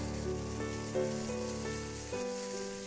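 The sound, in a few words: chicken pastil sizzling while being stirred in a pan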